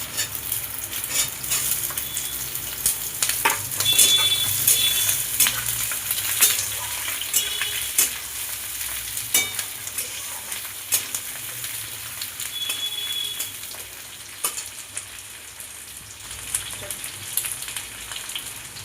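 Sliced capsicum and onions sizzle steadily in a hot pan, a loud continuous crackle with occasional clinks of a utensil stirring against the metal, close up and without any voices.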